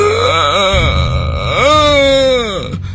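A human voice imitates a dying person's gasping breath with drawn-out, strained groaning moans in two rising and falling phrases, close and loud.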